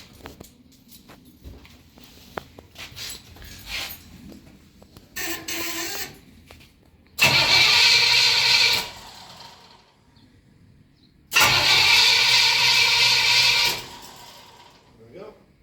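A 1968 Pontiac Firebird engine cranks in two loud, sustained bursts of starter whir separated by a pause, after quieter handling noises at the start.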